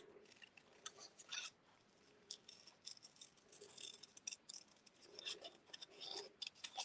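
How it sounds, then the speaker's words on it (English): Quiet, crisp snipping of scissors through paper, short irregular cuts in small clusters with brief pauses between them, close by. "you move the paper, not the scissors"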